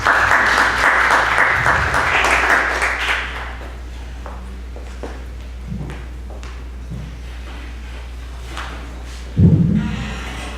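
Applause from an audience welcoming a speaker at a talk on consumer discrimination in Peru, a dense burst of clapping for about three seconds that fades quickly, followed by quiet room noise and a few isolated thumps.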